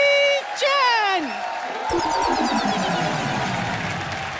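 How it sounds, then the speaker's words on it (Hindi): Television studio audience cheering and applauding as Jackie Chan, the Hollywood action star, enters, with a brief sung or voiced flourish at the start before the clapping and cheers build into a steady roar. "जोरदार तालियों में स्वागत कीजिए super action hero from Hollywood, Jackie chain"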